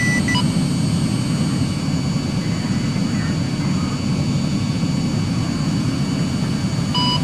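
An aircraft in the Arma 3 video game takes off with a loud, steady engine roar and dense low rumble that holds throughout, with no talk over it.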